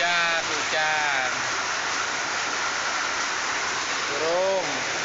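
Steady rain falling outdoors, a loud, even hiss that fills the whole stretch, with someone speaking over it at the start and again near the end.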